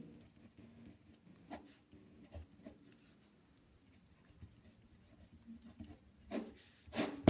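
Marker or chalk strokes scratching across a board while a biology diagram of a spore's structure is drawn, soft rubbing taps in short bursts, close and fairly quiet, with a few louder strokes near the end.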